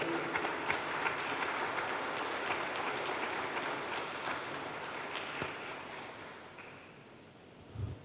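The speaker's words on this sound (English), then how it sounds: "So please give God and the committee a hearty round of applause." An audience at a 2021 graduation ceremony for a male mentorship program gives a sustained round of applause, heard as a broad wash of clapping at moderate distance that gradually tapers off.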